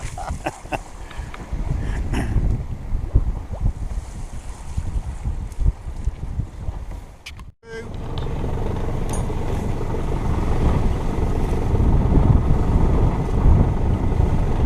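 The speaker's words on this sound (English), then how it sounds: "Don't worry about the sail flogging." A sailboat's sail flogs and flaps in strong wind while the boat is hauled in tight on a cruise to the Isles of Scilly, with steady loud wind and water rush throughout and a brief dropout midway.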